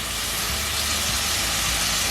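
Onion, tomato, garlic and ginger frying in a pan, giving a steady, close sizzling hiss with no break and no talk.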